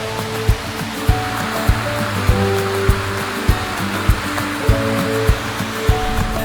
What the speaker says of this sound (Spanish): Este es uno de los pocos puntos en los que podremos ver correr el caudal de este curso de agua